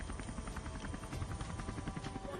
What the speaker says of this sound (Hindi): संतों और श्रद्धालुओं पर हेलीकॉप्टर के जरिए पुष्प वर्षा